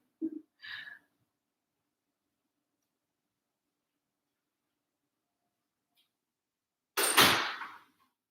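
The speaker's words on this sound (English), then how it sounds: "let me close that door so it's not super noisy." A brief faint shuffle and click, then a long silence, and finally a single solid thud of a door shutting nearby.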